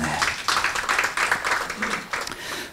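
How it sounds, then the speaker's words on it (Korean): Audience applause at an internet-industry panel conference in a hall, a brief burst of pulsing clapping from a room of people that fades out after a few seconds. "여러분 큰 박수 부탁드립니다."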